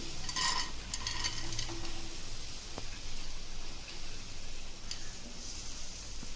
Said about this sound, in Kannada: ಈಗ ಇದೇ ಕುಕ್ಕರಲ್ಲಿ ನೋಡಿ ನಾನು ಬೇಳೆ ಹಾಕೊಳ್ತಾ ಇದ್ದೀನಿ.